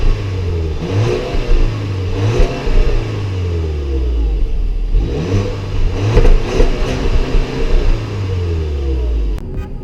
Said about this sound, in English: I'll try to give you guys an exhaust note